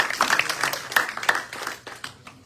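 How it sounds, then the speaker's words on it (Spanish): A church congregation at a Spanish-language service claps briefly and somewhat sparsely. The sharp individual claps fade within a couple of seconds. "Den un aplauso al Señor."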